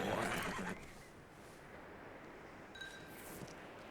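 A horse in the video game Red Dead Redemption 2 whinnies loudly at the start, then a quieter stretch of rumbling background noise with faint high tones follows.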